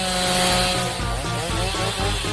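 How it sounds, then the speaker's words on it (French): A loud, steady engine roar with a buzzing, sawing edge, like a chainsaw running continuously close by, with slight surges in pitch. "Ah oui, une tronçonneuse."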